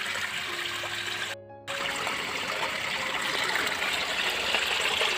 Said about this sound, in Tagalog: Ayun yung tubig, yung lakas-lakas.